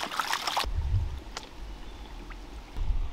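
Small creek water flows in a tributary on the Castlemaine goldfields during gold panning, with a brief louder rush of water at the start before settling into a quiet, steady trickle.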